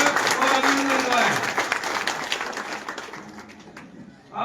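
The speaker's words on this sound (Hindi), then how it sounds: "आप सभी से निवेदन रहेगा तालियों से जोरदार हमारे इन मेहमानों का स्वागत और अभिनंदन करें" An audience at a border tourism event claps loudly to welcome guests, with a voice talking over it; the applause thins out and fades near the end before a brief renewed burst.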